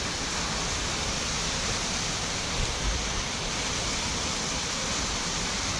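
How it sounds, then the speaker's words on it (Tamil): Loud, continuous rushing water roars without pause at Valparai, a dense wash of noise as if standing right beside a waterfall or fast stream. "தண்ணி சவுண்டு ஓவராக கேட்குது."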